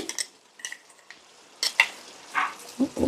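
Green chicken curry stirred in a pan gives quiet scraping and clinks of a spoon against metal in a few scattered bursts, over a faint background sizzle.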